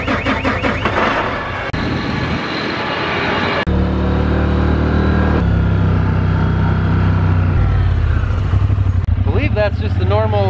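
Combine harvester engine starting up, then settling into a loud, steady mechanical drone with shifting tones as it runs.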